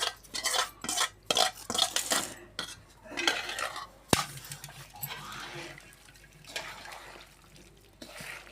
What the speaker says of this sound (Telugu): కలుపుకున్నాం, మంచిగా కలిపేసుకున్నాం